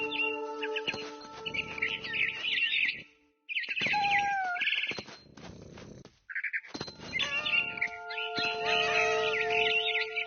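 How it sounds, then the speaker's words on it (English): Game birdsong from a barn swallow in What Remains of Edith Finch: bright, repeated chirps and tweets close by, with short gliding whistles, broken by brief gaps and set over a soft ambient bed. "Then I heard chirping outside my window. It was a barn swallow going back to her nest."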